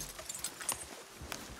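Horse in the Red Dead Redemption II video game, with soft hoof clops and faint snorting shuffles close by, low in level and steady over a quiet game background.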